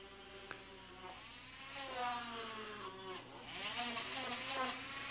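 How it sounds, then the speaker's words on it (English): A small power drill whines with a wavering, shifting pitch as it bores a hole in windshield glass, steady and close, with a faint tap near the start. "Drill your hole just beyond the end of the crack"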